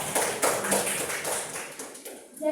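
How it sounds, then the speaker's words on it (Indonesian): Applause from a classroom or school gathering of students and teachers, a fairly loud burst of clapping with uneven sharp claps that tapers off near the end. "Tepuk tangan untuk Afifah"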